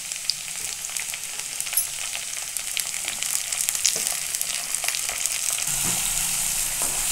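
Chopped tomatoes go into a pan of browned red onion and fry with a steady, bright sizzle that grows slightly denser toward the end, with no talking.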